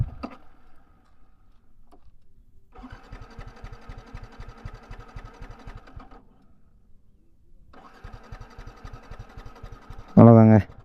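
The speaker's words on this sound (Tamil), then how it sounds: "வண்டி ஸ்டார்ட் பண்ணுற மாதிரிங்க உங்களுக்கு." A Yamaha R15 V3 motorcycle with its petrol run dry is cranked on the starter in two long rapid chugging bursts, close and moderately loud, separated by a pause, with a short sharp noise at the end.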